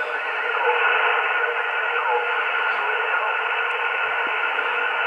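Steady hiss of radio static fills the clip, constant and moderately loud, with no speech, from a receiver using an MFJ-1020C or MFJ-1040C active antenna.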